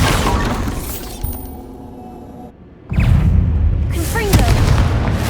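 Bombarda explosion spell in Hogwarts Legacy, a loud booming blast with crackling debris, followed by a brief lull and then another heavy rumbling burst, with voices over the game sounds.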